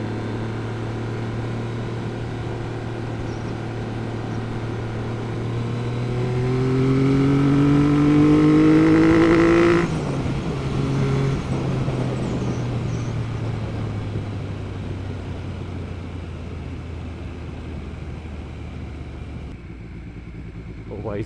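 A Triumph 900 Cafe Racer motorcycle rides on a road, its engine droning steadily, then rising in pitch as it accelerates before easing back, with wind noise and a voice speaking over it.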